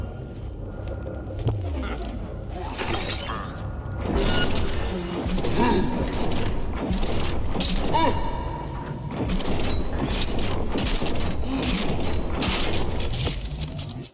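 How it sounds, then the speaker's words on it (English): Gunfire erupts in a night firefight in the video game Cyberpunk 2077, sharp staccato bursts and crashing impacts crowding over one another. The shots come loud and near, in quick irregular volleys that run throughout. "As the staccato rhythm of gunfire punctuates the night, I find myself immersed in the chaotic ballet of combat once again."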